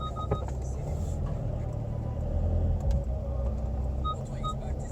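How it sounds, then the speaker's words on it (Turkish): A Skoda Superb reverses slowly into a parking spot, its engine a steady low hum throughout, close and continuous, with faint clicks and rattles from the cabin. "şimdi şu anda geriye doğru gidiyoruz"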